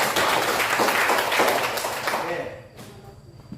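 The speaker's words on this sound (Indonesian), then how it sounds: "Tepuk tangan dulu." Audience applause in a classroom discussion session, a short burst of brisk clapping from a group that fades out after about two and a half seconds into quiet room noise.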